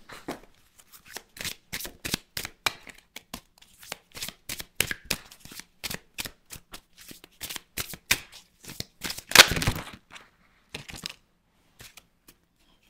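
A deck of cards is shuffled by hand in quick repeated riffles and snaps, crisp and close, alone without talk.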